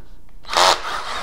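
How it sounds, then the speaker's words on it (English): A drill briefly countersinks a screw hole in a short, close whirring burst lasting under half a second, then trails off into quiet rubbing noise; workshop build of a hot wire foam cutter. "I will countersink the hole a little bit right there, like that"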